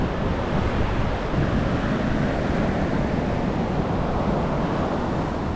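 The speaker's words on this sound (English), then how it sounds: "It's very windy out here on the beach today" Constant roaring wind buffeting the microphone on a Los Angeles beach, with surf rumbling underneath in a steady wash of noise and no voices.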